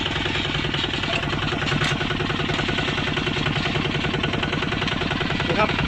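Kubota ZT155 tractor diesel engine running steadily in high gear, a loud, close, rapid rhythmic chugging throughout with a voice talking over it.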